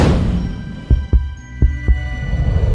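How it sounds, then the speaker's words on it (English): Heartbeat sound effect from a motion graphics animation: four deep, thumping beats arranged as two lub-dub pairs over a low, steady hum, loud and close. "Now we have 2 heartbeats."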